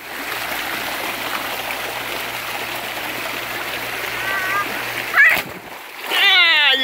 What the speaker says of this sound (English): He's splashing.